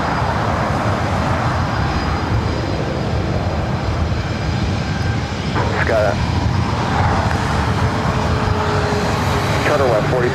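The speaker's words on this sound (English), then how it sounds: "Southwest Airlines flight 3606 heading to Baltimore" A Southwest Airlines Boeing 737-700 bound for Baltimore takes off from LAX with a loud, sustained jet engine roar, while voices talk over it and other airport noise runs underneath.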